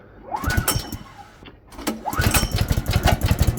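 A vintage Atco Balmoral lawn mower engine with fuel and choke on, failing to start: two rounds of loud, close pull-cord rasps and sputtering, uneven engine coughs that die away without catching.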